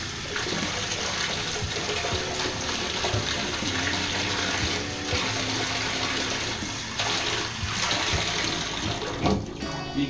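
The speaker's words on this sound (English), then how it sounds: "use a cup to rinse it off" Water splashing and pouring continuously as a cup is used to rinse a bathtub during resurfacing, a steady busy wash of liquid with occasional louder splashes and no talk.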